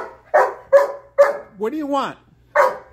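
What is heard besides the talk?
dog barking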